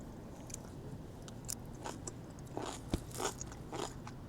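Kimchi being bitten and chewed in a car inside a downtown parking garage: close, quiet crunches and wet chewing with small scrapes, over faint background hum and no talking.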